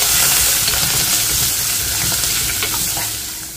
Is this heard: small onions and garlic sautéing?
yes